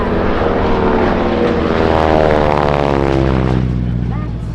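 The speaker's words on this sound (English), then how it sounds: "Such a beautiful airplane and such a beautiful sound on that beautiful T6." A radial-engine AT-6 Texan warbird flying aerobatics at an air show roars loud and close, its propeller drone sweeping down in pitch as it passes and then fading.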